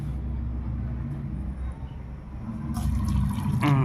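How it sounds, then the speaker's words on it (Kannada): Water being poured into a mixer jar holding small cut pieces of banana stem, a short splashing pour that grows louder toward the end, close by. "ಇವಾಗ ಸ್ವಲ್ಪ ನೀರು ಹಾಕ್ಬೇಕು ಅಷ್ಟೇ."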